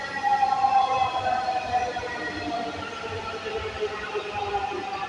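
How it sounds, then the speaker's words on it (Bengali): A metro rail train arriving at a station, its drawn-out electric whine held over a low rolling rumble, fairly loud and steady before fading slightly. "এই যে স্বপ্নের মেট্রো রেল আসছে"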